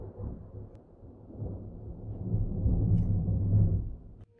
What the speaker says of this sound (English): I love thunder so much.